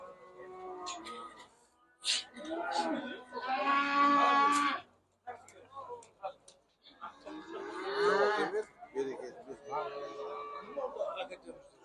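Cattle and a male calf at a livestock market low and moo in several drawn-out calls, close and fairly loud, with people talking over and between the calls.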